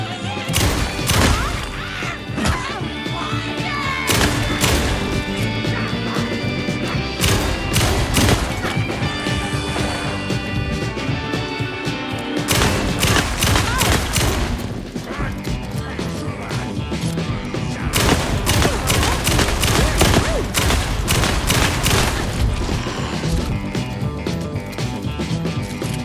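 Dense, continuous combat action from Alan Wake 2 with repeated sharp percussive bursts, likely gunshots, packed tightly under a loud layered mix of music and effects, with no clear pauses.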